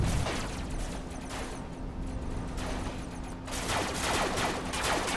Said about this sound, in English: Definitely somebody shooting some dude near our base